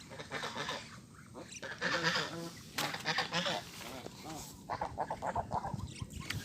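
A large flock of Muscovy ducks gathered near water at high tide, giving repeated overlapping honks and hisses. The calls stay close and busy throughout, with someone talking over them.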